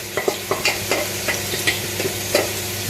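Lamb frying for pilau rice sizzles steadily in a pot while a spoon scrapes and stirs it in a run of close, irregular knocks and swishes, with no talking.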